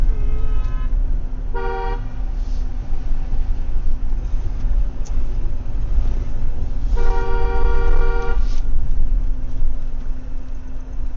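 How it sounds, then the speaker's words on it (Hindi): A car horn honks in two short bursts a few seconds apart, loud and close, over a steady engine and traffic rumble. "हॉर्न दे रहा हूँ, रुकेगा नहीं।"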